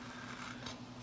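Brief, soft snipping of scissors trimming a paper sticker, close by and quiet, with no talking.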